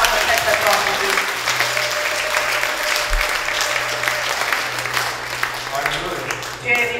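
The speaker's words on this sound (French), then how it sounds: "Acclame cette personne de Dieu." A church congregation applauds, a dense wash of clapping that holds steady and then thins slightly, with voices and a low hum underneath.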